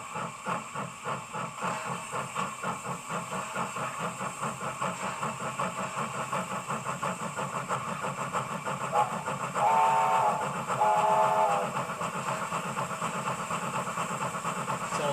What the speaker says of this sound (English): we are locked into the heavy chuffs down